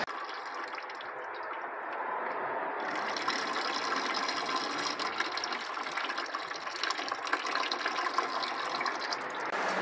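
Transmission oil pours steadily out of a Jeep 42RLE pan as it is loosened, a continuous close liquid gush and splatter with no talk over it.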